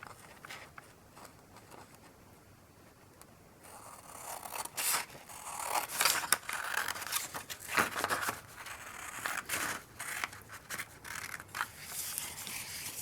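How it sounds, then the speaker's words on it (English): Scissors snip and scrape through a 12 by 12 sheet of cardstock while making a triangle card, a run of crisp, close cutting strokes that begins quietly and grows busier and louder, with no one talking. "you're going to use a paper trimmer or scissors to cut along the lines that you've just made"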